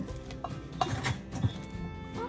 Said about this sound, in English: We just gotta stir this together.